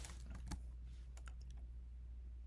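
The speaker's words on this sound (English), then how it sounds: "So we're going to go back, type in sudo." Keys clack on a computer keyboard as a sudo command is typed into a terminal, a quick irregular run of soft, close clicks over a steady low hum.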